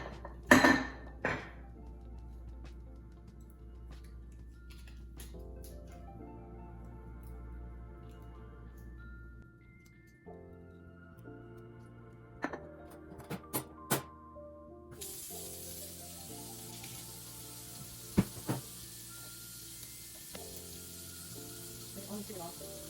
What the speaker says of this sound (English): now it's time to clean and sanitize these jars